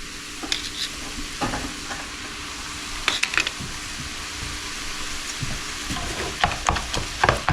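Ground meat for sloppy joes browning in a pan, with a steady close sizzle and hiss plus occasional scraping stirs, no talking.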